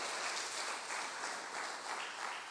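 A church congregation applauds with dense, steady clapping that runs throughout at a moderate distance, with no talk on top.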